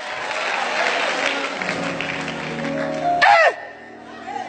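Applause fills the first three seconds as a dense, even wash of clapping, then ends in a short tonal burst before a quieter tail; a voice can be heard faintly.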